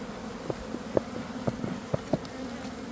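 Honeybees buzz around an opened hive being split, with drones among the colony; a steady low insect drone runs throughout with scattered short knocks and frame bumps close by.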